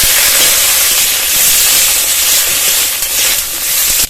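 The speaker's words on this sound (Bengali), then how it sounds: "ভেন্ডি দিয়ে দেবো, ভেন্ডিগুলোকে ভেজে নেবো।" Okra sizzles in hot mustard oil in a wok, a loud, continuous, even hiss with no talking.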